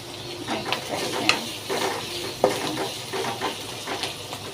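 Soft sizzling of chopped onion frying in oil in a wok, with intermittent clinks and scrapes of a utensil stirring.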